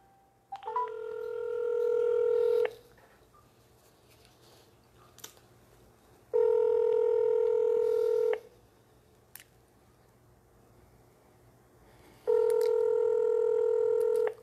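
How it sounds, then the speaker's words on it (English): Outgoing telephone call from a radio studio: three long, loud, steady ringing tones of about two seconds each, spaced by quiet gaps, with a faint hum beneath. "I'm about to get him on the phone"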